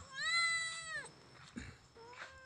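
Cats meow loudly in a long drawn-out call followed by shorter meows from several cats, heard at a cat greased-pole climbing contest for catfish.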